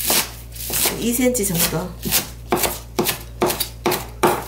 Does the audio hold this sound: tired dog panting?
no